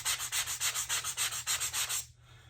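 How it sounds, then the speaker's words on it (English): A laser-cut model rocket fin edge is sanded by hand, about a dozen quick rhythmic back-and-forth rasping strokes, close and clear, before stopping abruptly. "first sand the edge that'll actually go against the rocket"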